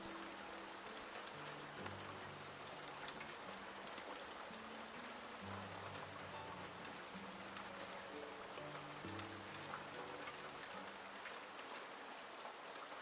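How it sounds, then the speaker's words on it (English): Soft rain ambience plays quietly in the background, a faint steady patter under a low, slow melodic tone, with no one speaking. "we might have to lower the rain just a little bit"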